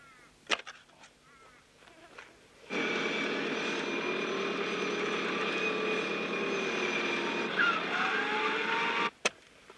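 A 1991 off-road vehicle's engine revs hard and steadily for several seconds while it drives out of a bog in the Australian outback, close and loud, starting and stopping abruptly.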